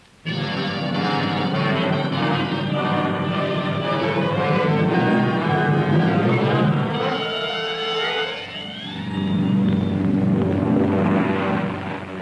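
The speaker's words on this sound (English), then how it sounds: "Tell him to swing the prop and get cracking." A propeller aircraft engine for a 1944 radio comedy sound effect coughs into life and runs with a loud, steady droning buzz, the pitch shifting as it revs before settling into a rougher roar.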